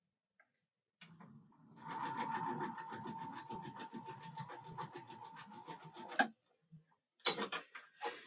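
A sewing machine stitching a quarter-inch quilt seam, running in a fast steady whir for several seconds after a few light clicks, stopping abruptly, then brief handling noises.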